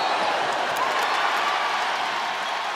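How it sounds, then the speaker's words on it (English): A crowd cheering at a women's college basketball game inside Reynolds Coliseum, NC State Wolfpack hosting Stanford, a dense steady roar of applause and voices filling the arena, with a commentator talking over it. "And listen to this crowd inside Reynolds Coliseum, loving the effort on the other end from Maddie Cox."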